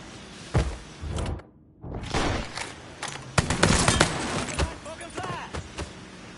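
Gunfire in a PS4 shooter video game: loud, close bursts and rapid volleys with heavy thuds, mixed with shouting voices.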